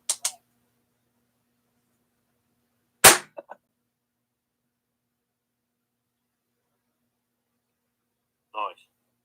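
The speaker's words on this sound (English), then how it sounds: "I'm going to fire a cap now" A single sharp crack from a toy cap gun firing one cap, loud and close against near silence, with brief faint sounds before and after.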